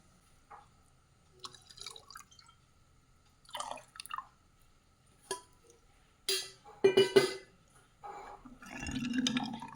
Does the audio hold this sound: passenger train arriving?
no